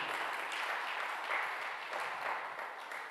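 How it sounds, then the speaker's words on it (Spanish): A church congregation at a Sunday service claps together in a steady, dense wash of applause that fills the space evenly and fades slightly toward the end. "ofrezcámosle palmas a ese Dios bueno"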